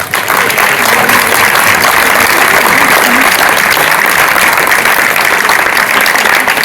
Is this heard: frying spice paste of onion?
no